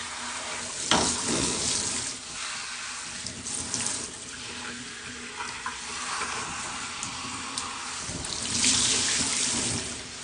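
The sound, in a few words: water running while rinsing wavy hair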